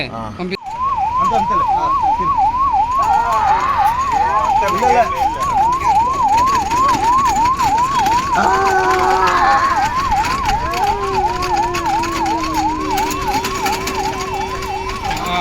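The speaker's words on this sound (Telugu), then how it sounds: "వస్తుంది అంబులెన్స్ వస్తుంది" An ambulance siren wails steadily in a rapid, repeating up-and-down pattern, loud and close as it approaches, with traffic noise and faint voices underneath.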